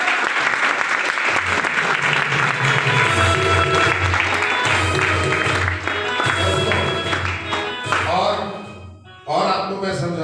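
An audience at a live event applauds loudly and steadily for several seconds, with the clapping thinning and briefly dropping out near the end before resuming.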